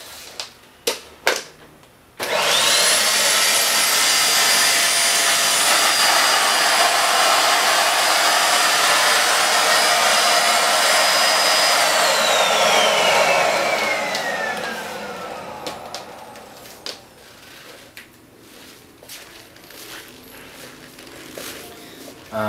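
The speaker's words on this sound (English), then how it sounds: "let's see how this vacuum does on powder" A Pooda D9 budget 2-in-1 vacuum cleaner runs steadily for about twelve seconds with a loud, high whine while picking up spilled powder, then winds down, with a few clicks and knocks before and after.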